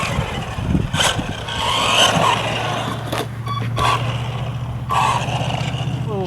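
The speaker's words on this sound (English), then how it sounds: "Little first drive test with the Luctan S912" A GP Toys Luctan S912 two-wheel-drive RC truggy whines as its electric motor speeds up and slows down, with a steady buzzing hum and rolling noise close by.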